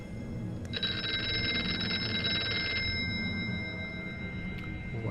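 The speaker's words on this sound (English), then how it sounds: "And a ringing phone." One long burst of a rapidly trilling telephone bell rings in the video game Here They Lie, set against a low droning background, then stops abruptly with no voices.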